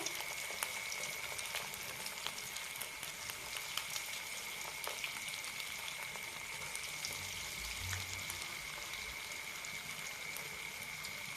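Cabbage Manchurian balls deep-frying in hot oil, a steady dense bubbling sizzle with faint crackles and a few soft clinks, continuous and close with no talking.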